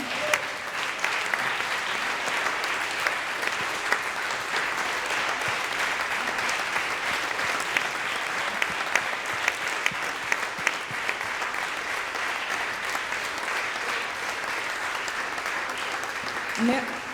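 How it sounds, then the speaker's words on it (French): Sustained, even applause from an audience honouring volunteers at a climate report launch evening at the Académie du Climat, dense and continuous for a long stretch with a few louder claps standing out. "je veux bien que les bénévoles de l'équipe de l'Alliance pour le GIECO se lèvent et qu'on les applaudisse"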